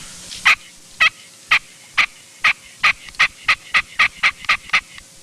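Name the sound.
turkey call device imitating a turkey, used for hunting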